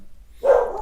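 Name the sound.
dog barking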